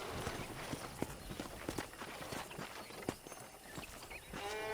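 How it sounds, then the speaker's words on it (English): Horse hooves clip-clop at an easy walking pace, a steady rhythmic clatter against a faint background hum, in the video game Red Dead Redemption. "I picked out a fine horse for you."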